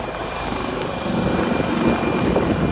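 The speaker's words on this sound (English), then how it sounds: "This beauty, the light combat helicopter, surely teases as it goes away" A HAL Light Combat Helicopter in a flying display at Aero India 2019 gives off a steady, loud, broad roar of rotor and engine that swells slightly as it passes, with no voices.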